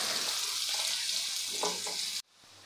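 Finely chopped onion sautés in hot oil with cumin seeds, a close continuous sizzle broken by a few stirring scrapes before it cuts off sharply near the end.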